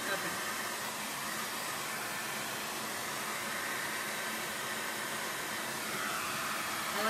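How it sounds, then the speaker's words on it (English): A blow dryer runs continuously with an even, loud airy whoosh throughout, used while making a baby shower chalkboard. "let me have the blow dryer really quick"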